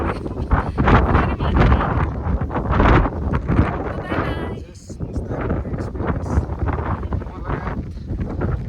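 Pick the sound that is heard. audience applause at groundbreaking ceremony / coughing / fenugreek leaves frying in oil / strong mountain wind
strong mountain wind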